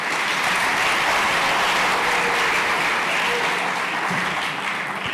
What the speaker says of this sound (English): Let's ensure that round of applause reaches Kajiado and Turkana